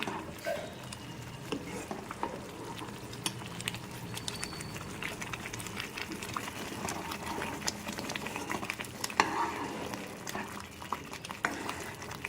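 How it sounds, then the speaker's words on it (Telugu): A spoon scrapes and taps steadily as upma is stirred in a pan over low heat, a soft, continuous clatter and sizzle at close range. "నిదానంగా సిమ్లో పెట్టుకొని నిదానంగా తిప్పుకుంటూ చేయాలి"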